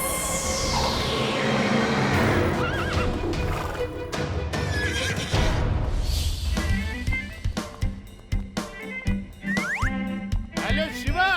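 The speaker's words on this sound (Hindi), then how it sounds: "मैंने बहुत सुंदर घोड़ा पकड़ा है।" A horse gives a loud, drawn-out whinny in an animated show, followed by clip-clop hoofbeats and bouncy cartoon effects, with voices present.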